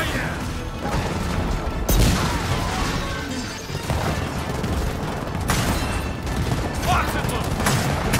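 Gunfire and impacts in the video game Gears of War 4, dense bursts of shots with sharp cracks and crashes over a rumbling background, loud and continuous, with a voice talking underneath.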